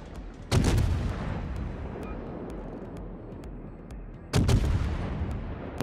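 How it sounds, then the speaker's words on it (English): Ray guns fire in a naval battle video game, each shot a heavy booming blast with a long rumbling tail, two loud bursts a few seconds apart over continuous low battle noise. "I use my ray guns on Algerie."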